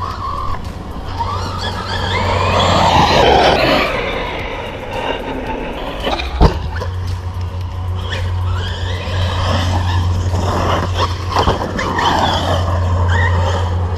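A 6S radio-controlled car, a Team Corally Kagama or Arrma Big Rock, revs and skids across the ground outdoors, its whining motor and scrabbling tires continuous and fairly close, with a steady low hum throughout.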